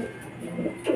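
Racing pigeons coo softly while returning home during a training flight, a close, continuous murmur of throaty coos that swells near the end.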